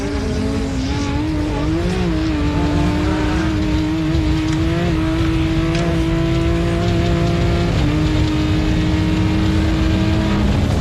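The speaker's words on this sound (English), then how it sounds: "the final car to take off from this morning's start" An off-road race car revs hard and takes off at a 4x4 adventure park during a morning heat of the Loveday 400, its engine note loud, close and continuous as it climbs and shifts.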